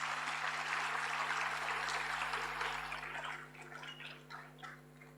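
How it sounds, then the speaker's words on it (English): An indoor audience at a conference session applauds the speakers, dense clapping that is strong at first and then thins out and fades toward the end, with a steady electrical hum underneath. "Let's end this session with a huge round of applause for all our esteemed speakers"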